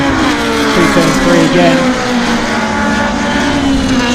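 Improved production race cars and production sports cars race around a circuit in a heat. Their engines drone and whine loudly in overlapping tones that rise and fall as the pack passes, with a commentator talking over them.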